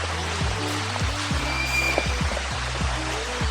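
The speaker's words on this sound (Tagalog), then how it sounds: "Medyo malakas lang yung ulan. Pero may bubong naman." Heavy rain pours onto a roof at a crocodile park, a dense, steady hiss that fills the whole stretch, with a low droning hum running underneath.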